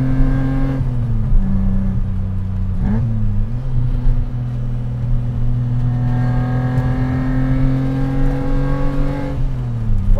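A custom 1986 BMW E30 325is being driven hard gives a steady, close engine drone whose pitch dips briefly with gear changes and then holds, with no talking over it.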